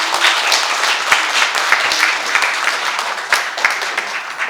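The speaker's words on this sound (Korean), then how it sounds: "여러분 크게 격려의 박수 부탁드립니다" Steady applause of encouragement from a crowd at a political rally in support of a lawmaker, dense and continuous clapping with sharper individual claps popping out, fairly loud and close throughout.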